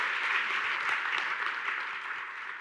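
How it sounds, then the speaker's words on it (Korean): Applause from a Korean science forum audience for three guest doctors, a soft, somewhat distant sustained patter of clapping that stays fairly even and tapers slightly toward the close, with no voices over it. "큰 박수 부탁드립니다."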